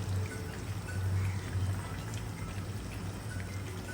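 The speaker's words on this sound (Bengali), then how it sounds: "এখানে আমি গরম পানি দিয়ে দিব।" Hot water is poured steadily into a cooking pot holding a thickened egg curry, a continuous close splashing and gurgling stream running for about four seconds with a low rumble beneath it and no talking.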